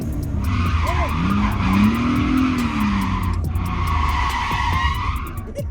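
A car on a drift-training outing in Spain accelerates hard and skids, its engine revving up and falling away as the tires squeal in long, loud stretches, with a brief pause before the squeal resumes.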